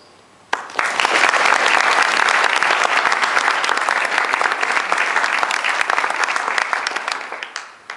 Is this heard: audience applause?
yes